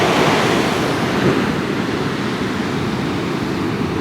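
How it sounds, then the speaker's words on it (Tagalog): Strong ocean waves crash and surge continuously at Dalugan Beach near a tidal pool, a loud, dense roar of surf with wind buffeting the microphone throughout. "napakalakas ng alon dito"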